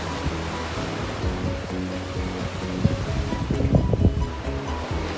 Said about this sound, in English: Just listen to the waves, it sounds amazing.